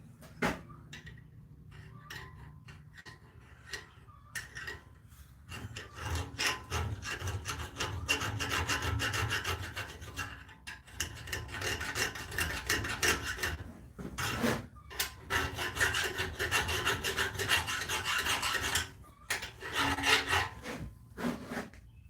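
A hand file with a file guide rasps along the bevels of a Damascus Bowie knife in long, steady, loud strokes, repeated back and forth with brief pauses between passes.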